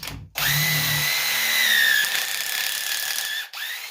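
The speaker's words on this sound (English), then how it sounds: "That's just a hammer drill." Hammer drill boring pocket holes in wood for an L-shaped desk build, a loud steady whine that runs for about three seconds, with a brief stop and restart near the end.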